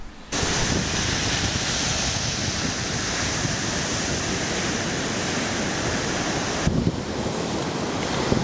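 Ocean surf raking onto a dangerous stretch of shore makes a loud, close, continuous roar of breaking waves, thick with wind noise and no voices.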